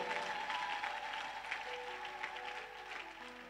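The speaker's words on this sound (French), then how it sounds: "Est-ce que tu peux applaudir très fort pour le Seigneur?" A church congregation applauds during a sermon, a steady wash of clapping at moderate level that carries through without any talk over it.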